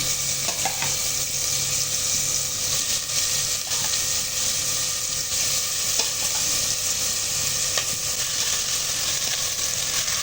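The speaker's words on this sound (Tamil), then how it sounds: "இப்போது நம்ம இந்த பீஸ்லாம் கொஞ்சம் கொஞ்சமாக சேர்த்துக்கலாம்." Chicken pieces frying in hot oil with cloves, cardamom and curry leaves, a loud, steady sizzle with occasional light stirring clicks, close and continuous throughout with no talking.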